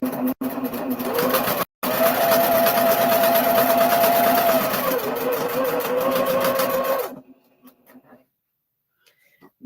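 A sewing machine stitches tiny Dresden quilt blades, a loud, fast mechanical whir running steadily for several seconds with a brief stop near the start, then cutting off into near silence.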